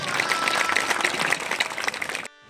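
An audience at a Lohana community mass wedding celebration in Ahmedabad claps in a dense, steady burst of applause that fades slightly before cutting off abruptly.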